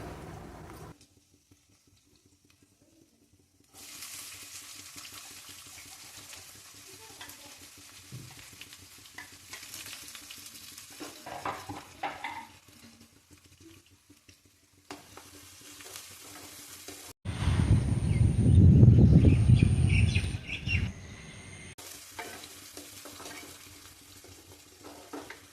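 Garlic and onion frying in oil in a home kitchen pan, with a quiet sizzle and stirring scrapes, broken by a loud burst of bubbling around the middle before settling back to a softer fry.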